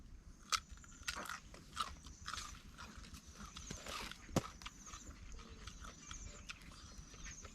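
Someone bites into and chews cucumber: a series of quiet crisp crunches at irregular intervals, with soft wet chewing between bites.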